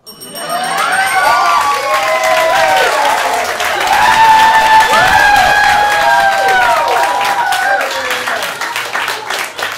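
A comedy showcase audience breaks into applause and cheering for an improv performance, dense clapping and voices filling the room loudly throughout and sustained without a break.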